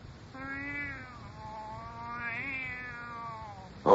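A cat gives long, drawn-out meows that rise and fall in pitch like a plaintive caterwaul, close and steady, ending with a sudden louder burst.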